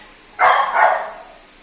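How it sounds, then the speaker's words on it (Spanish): A pet dog gives two quick, sharp barks close by, the second slightly longer, with quiet room tone around them and no talking. "Orejón, mi perro."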